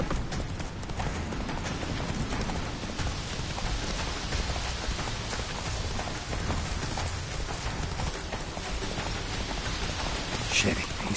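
A horse gallops through pouring rain in the video game The Witcher, its quick, steady hoofbeats close and clear over a constant hiss of rainfall.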